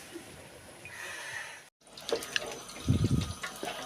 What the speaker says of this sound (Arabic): هسقيب الميه واغطي عليه لغايه ما يتشرب